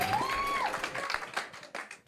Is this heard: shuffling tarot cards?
no